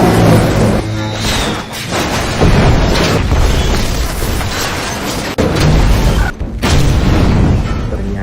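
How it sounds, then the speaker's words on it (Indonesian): A helicopter crashes and explodes in a film about apes, heavy booming blasts and rumbling debris filling the scene loudly, with a sharp break and renewed roar toward the end. "gorila itu melompat masuk ke helikopter, membuat helikopter terjatuh dan meledak"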